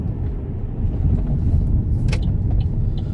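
A Nissan e-NV200 40kWh electric van, reported faulty, pulling up at a dealership, with a loud steady rumble of road and cabin noise throughout and no talking.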